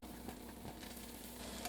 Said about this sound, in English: So now we're going to stir in the thyme. Then we're going to add in the onion.